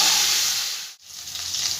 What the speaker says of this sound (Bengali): এবার ভালো করে ভেজে নেব ফুলকপিটা।